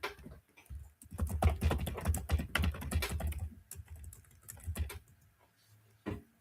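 Someone types steadily on a computer keyboard, a dense run of close key clatter that thins out toward the end, ending with a single sharper tap; no one speaks.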